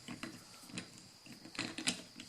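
A 22mm socket on a 1/2-inch drive being turned by hand to snug a nut gives a quiet run of small clicks and metallic ticks, with a few louder clatters near the end and no talk.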